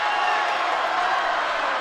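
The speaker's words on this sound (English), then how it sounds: "Westside's crowd is loud." Westside fans cheering at a high school state volleyball quarterfinal, a dense, steady roar of crowd noise filling the gym without a break.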